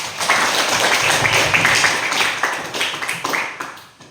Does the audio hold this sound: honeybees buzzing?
no